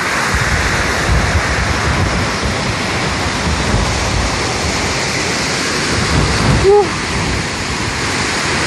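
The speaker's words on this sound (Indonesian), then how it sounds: "Inilah air terjun Curug Kambas, Desa Ulat Lebar, Kecamatan Ulugan, Kabupaten Ogan Komering Ulu, Provinsi Sumatera Selatan" Waterfall Curug Kambas in Ulak Lebar village, Ogan Komering Ulu, South Sumatra, pours with a loud, steady, close-up roar of rushing water that continues without a break throughout.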